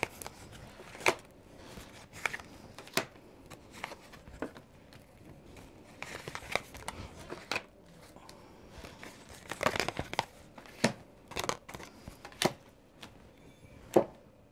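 Tarot cards are shuffled by hand in a run of quick crisp riffles and slaps, irregular but close and distinct, with brief pauses between bursts.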